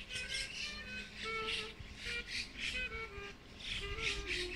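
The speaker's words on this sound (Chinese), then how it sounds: "听听鸟儿的欢歌" Birds sing in a park in Japan at dawn, with faint, repeated chirps and short squawky calls coming from a distance.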